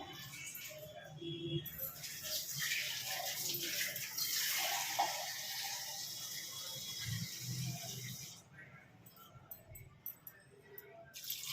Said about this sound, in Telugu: ఇప్పుడు వాటర్ పోస్తాము.